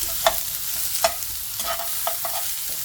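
Onions being broken up in a frying pan with paprika and fat: several distinct scraping stirs with a spatula over a soft, steady sizzle, close and moderately loud, with no voices.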